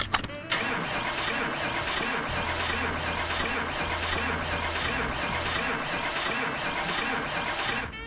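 In Car Mechanic Simulator 2018, a car engine cranks over and over without catching, an even, sustained churning starter drone lasting several seconds and loud up close.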